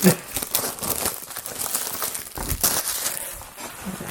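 Flimsy cardboard packaging from a wooden 3D airship puzzle being crumpled and torn up close, a steady crinkling rustle with sharper rips and crackles throughout and no talking.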